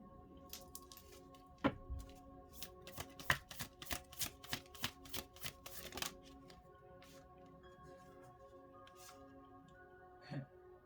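Tarot cards are shuffled close up, with rapid soft slapping and riffling that comes in irregular bursts, a few louder snaps, then a quiet pause, and no talk.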